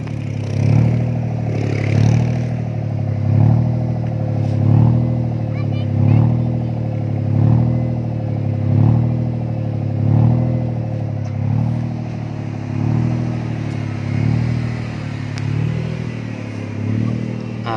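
A loud Nissan March car engine runs close by, fitted with an electronic throttle controller, revving in a steady rhythmic pulse roughly every second and a half, with clattering mechanical noise over a deep rumble.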